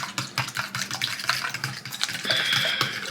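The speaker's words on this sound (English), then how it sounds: "whipping it with the wrist like a stir fry" An egg whisked by hand in a bowl for a breakfast taco, rapid uneven clinking and sloshing strokes close by, with a brief watery hiss near the end.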